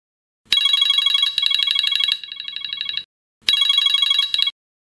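A phone rings loudly and close with a bright electronic trilling ringtone, two long bursts separated by a short silence, with no other sound around it.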